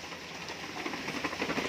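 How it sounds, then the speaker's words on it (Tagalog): Heavy rain pours down in a steady, dense wash of hiss that holds at an even level throughout, with no voices. "Ang lakas ang ulan."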